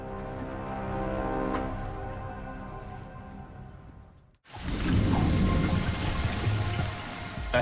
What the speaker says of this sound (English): A heavy rain soaks a small airport in Dubrovnik, Croatia.